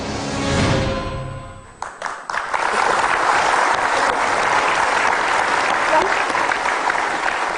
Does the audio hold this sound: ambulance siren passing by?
no